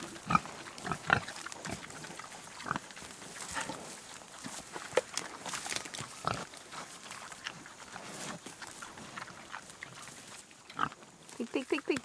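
Free-range homestead pigs grunt and snort close by in a run of short irregular bursts, mixed with rustling movement and occasional footsteps.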